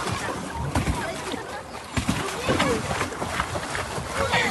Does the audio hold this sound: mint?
no